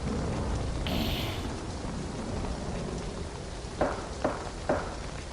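Steady rain pours through a nighttime thunderstorm in a gothic horror audio drama, a dense hiss that never lets up, with a few sharp, louder impacts near the end that could be knocks at the front door.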